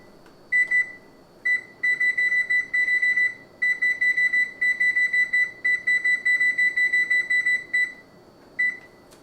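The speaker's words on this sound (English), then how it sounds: "I'm going to set the timer." An oven or kitchen timer beeps repeatedly as its buttons are pressed, with rapid bursts of loud, clear electronic bleeps in irregular runs and short pauses, alone without speech.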